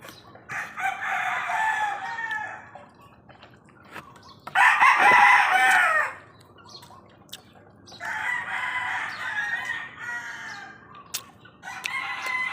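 Repeated rooster crowing comes in four bursts, the second loudest and nearest, with soft clucking and faint dripping between the calls.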